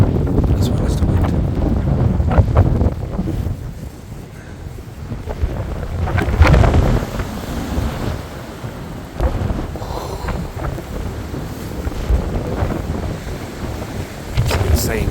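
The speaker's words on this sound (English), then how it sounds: "It's an insane gust there." A powerful gust from Storm Eowyn slams the microphone at night, a loud low roaring rush that swells and fades in bursts, with wind and rain among trees.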